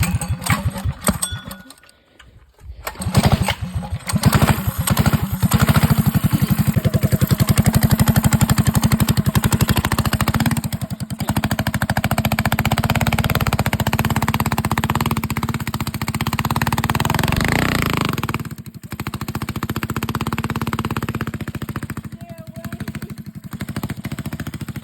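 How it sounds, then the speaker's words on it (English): Small engine of a trike ridden up a trail hill climb at night, starting and sputtering then holding a loud, steady drone with rising and falling throttle, close to the rider. "Now we're riding the trike at nighttime on the trail."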